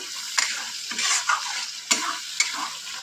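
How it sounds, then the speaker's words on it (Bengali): Sour curd is stirred into spices frying in a pan, a close sizzle with quick scraping strokes and a few crisp spatula taps against the metal, no voices. "দইটা দিয়ে ভালো করে নেড়ে নিচ্ছি।"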